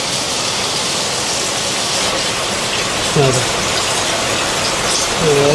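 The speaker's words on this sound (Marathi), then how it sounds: "वारा आणि पाऊस एकसाथ" Steady rush of rain and wind fills the scene, with brief bits of a voice rising over the noise near the end.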